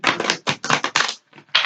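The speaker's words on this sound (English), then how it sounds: "We're gonna shuffle one more time." A deck of tarot cards is shuffled by hand in several quick, close riffling bursts with short pauses between them, and no one speaks.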